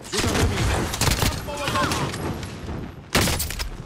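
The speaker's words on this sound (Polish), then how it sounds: "Walą do mnie!" Rapid gunfire from the battle royale game Warzone crackles in close, busy volleys under excited talk, easing off midway before a sudden loud burst of shots near the end.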